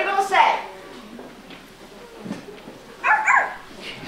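A puppeteer's voice imitates a small, obnoxious dog barking during a children's puppet show, with two yappy bursts separated by a short gap, close and loud, and quieter talk in between.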